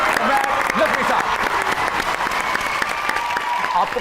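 A studio audience gives sustained, dense applause welcoming a poet on stage, loud and continuous throughout with a voice speaking over the clapping.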